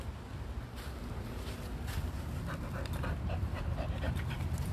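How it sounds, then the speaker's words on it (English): A dog pants rapidly and rhythmically while playing, fairly faint against a steady background noise, with no talking. "He is a fantastic dog."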